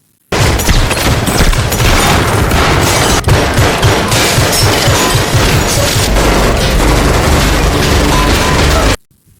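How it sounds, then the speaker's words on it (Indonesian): Heavy gunfire rattles through an action film shootout between corrupt police. Loud, continuous bursts and rapid volleys run almost without pause for about nine seconds, then stop abruptly. "Ellie dan Jack saling baku tembak."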